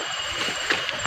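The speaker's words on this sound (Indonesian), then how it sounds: "Itu air mengalir loh." Near a waterfall on a mountain hiking trail, a stream flows and gurgles in a steady, continuous wash with a few small splashes.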